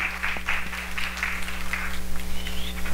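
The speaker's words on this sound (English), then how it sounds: "clapping when he walked off" Congregation applauding in a church, a steady spread of hand claps with a constant low hum underneath, moderately loud and continuous, without talk.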